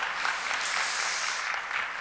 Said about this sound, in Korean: 박수하십시다